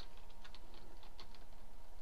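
Quiet clicking of keys on a computer keyboard as a search is typed, a brisk irregular run of soft taps heard close and alone.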